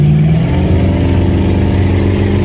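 A 1999 Mariah boat's engine roars steadily and loud as the throttle opens after a no wake zone, a continuous close drone with no talk over it.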